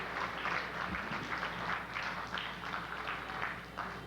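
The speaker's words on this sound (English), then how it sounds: "Let's give Utrice a warm round of applause." Warm applause from an audience thanking a guest speaker, a steady wash of clapping at moderate distance that holds evenly for about four seconds with no speech over it.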